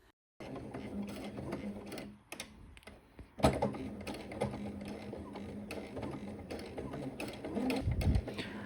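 A sewing machine stitches a hem in jersey fabric for an elastic-waist skirt, running in steady mechanical bursts with brief pauses and a louder stretch near the end, close and alone without talk.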